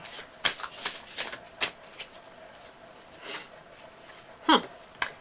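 A deck of cards being shuffled, with quick riffling bursts and flicks spread across a few seconds, close and moderately loud with short gaps between, no talk.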